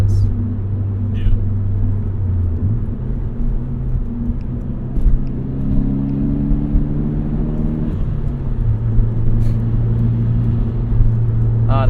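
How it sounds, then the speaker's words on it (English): A 1998 Eagle Talon TSI under way, its engine droning steadily through gear changes with a low rumble, the turbo's whir blending into the continuous cabin-heard road and motor noise. "I love that turbo noise."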